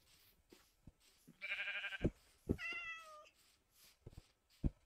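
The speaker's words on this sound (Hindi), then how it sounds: "अरे कहाँ लेके जा रही है बिल्ली मुझे।" Cat meowing in the Minecraft video game, a few short game meows with harmonic cries in the middle of the clip, interleaved with brief clicks and soft thumps, with no talk over them.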